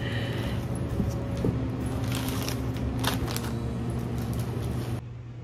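Steady broadband air conditioner hum and hiss filling a room at low level, with a faint constant low drone and some small handling clicks and rustles over it, no talking.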